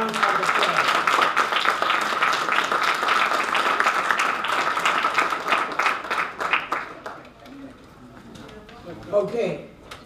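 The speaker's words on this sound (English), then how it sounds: "let's give the Honorable Shirley Chisholm a round of applause" Applause for Congresswoman Shirley Chisholm at a live-streamed event, a dense, loud wash of clapping for about seven seconds that thins and fades, with a few scattered claps and faint voices near the end.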